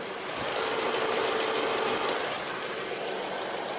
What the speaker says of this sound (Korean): 엔진 소음 들려드리면은